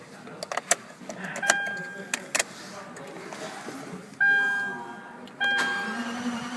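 Several clicks and soft electronic chimes inside a 2012 Lexus LFA, then its V10 engine cranks and catches with a rising roar, settling into a steady run.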